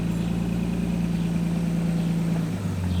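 A car engine running steadily after a fuel pump replacement, a loud, constant low drone with a steady hum that drops slightly in pitch near the end, heard from inside the car with no talking.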